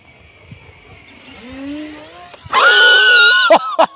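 E-flite ElectroStreak 1.1 m electric RC plane on its maiden flight, a rising motor whine growing as it approaches, then a loud, dense, high-pitched buzz as it passes close by.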